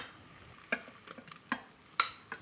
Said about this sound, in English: I'm just stirring that to coat with the onion mixture that's already in there